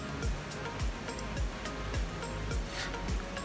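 Beach surf rolling in at Kuta, Bali, as the tide ebbs in late afternoon, with repeated soft wave wash and low churning rumble, rhythmic and moderately distant.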